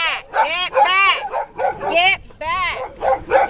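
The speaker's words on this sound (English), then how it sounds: "I think I hear one barking up there" Dogs from a pack on a hillside barking and yipping in quick, close bursts with whimpering tones, loud and continuous over about three and a half seconds, with a person's voice mixed in.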